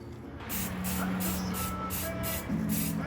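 Aerosol spray paint hissing onto a bowl being coated black, in steady bursts of close, loud spraying separated by short pauses.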